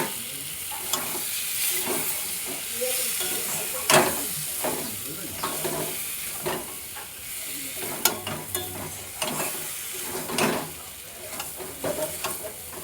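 Fried eggs stirred into spiced masala in a pan for egg do pyaza, with irregular spoon scrapes and knocks over a continuous sizzle, close and steady throughout.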